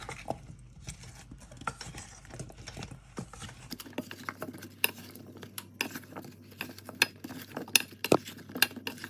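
Potatoes are stirred in leftover marinade inside a container, giving a run of close, scattered clinks and scrapes that grow busier in the second half, with no talking.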